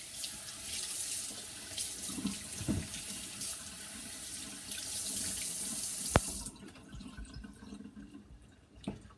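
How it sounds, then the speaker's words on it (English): Tap water runs into a sink while a bowl is rinsed out in a home kitchen, a loud continuous splashing stream with clattering knocks of the bowl, then the flow cuts off and leaves faint drips. "Wash this out."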